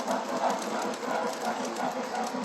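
Train sounds from train videos played on a TV in a home room, a steady rumbling rail noise with rhythmic pulsing, moderately loud and continuous throughout.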